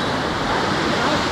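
A river swollen after rain rushes steadily past a village bridge, a loud, dense wash of flowing water with no pauses.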